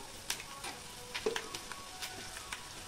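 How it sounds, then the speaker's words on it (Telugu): Ginger garlic paste, garlic and curry leaves fry in a pan with a soft, steady sizzle, joined by a few light stirring scrapes and taps, close and fairly quiet, with no talking. "ఈ అల్లం వెల్లుల్లి పేస్ట్ను, వెల్లుల్లిపాయలు, కరివేపాకు ఇవి వేగుతున్నప్పుడే"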